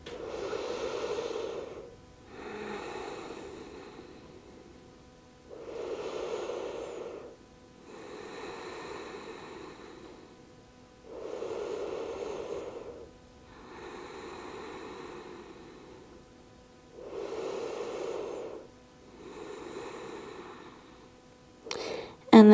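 Slow, steady breaths taken during a yoga pose in a full-body morning flow, about five long inhale-exhale cycles in an even rhythm, close and moderately quiet with soft airy hiss.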